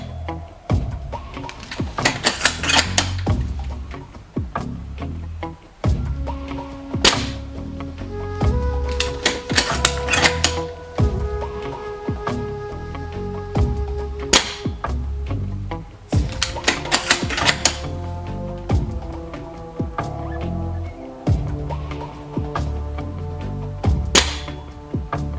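Shots from a TAC41 Silverback airsoft sniper rifle fired from a window: sharp, loud snaps in small clusters, each shot followed by a short mechanical clack and ringing, repeated many times with pauses between.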